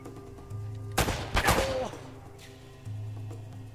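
Gunfire in the video game Uncharted: Drake's Fortune, a loud burst of several shots close together with a shotgun-like blast, over a steady game soundtrack hum.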